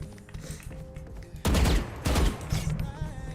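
Rapid bursts of gunfire in the Valorant video game, two loud clusters of shots over a quieter background of game sound.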